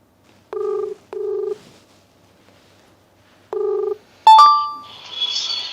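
A telephone call placed from a legal advice show: two ringback tones in quick succession, a pause, a third ring, then a sharp electronic beep and tone as the line connects.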